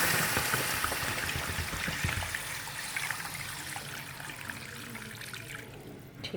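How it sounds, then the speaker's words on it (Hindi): Water poured into a cooking pot for nalli nihari, a steady splashing trickle lasting several seconds that tapers off toward the end. "इसमें हम पानी ऐड कर देंगे।"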